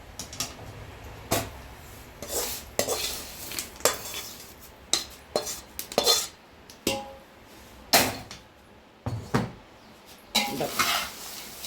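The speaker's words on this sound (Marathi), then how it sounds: "याच्यामुळे या चिवड्यामध्ये पोह्यामध्ये सगळं मिक्स करायचं आहे" Fried poha chivda is tossed with peanuts, dal and fried curry leaves in a pan, producing a series of close, uneven scraping and clattering stirs with crisp rustling between strokes.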